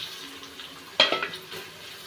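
Tomatoes dropped into a hot pan for tomato rice, a sudden splashy sizzle and clatter midway after a quiet low background, then fading crackle.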